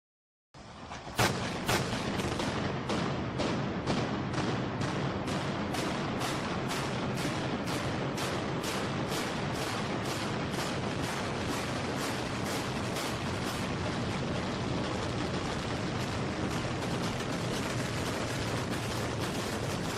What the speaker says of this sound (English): When the explosives are detonated, the building begins to collapse rapidly.